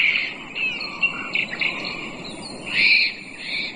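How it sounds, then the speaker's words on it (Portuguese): Bird calls and chirps played back by a Bluetooth astronaut night lamp, a few bright repeated chirps over a soft hiss, moderately loud and close, with no talking. "Ah, tem de pássaro, sapo."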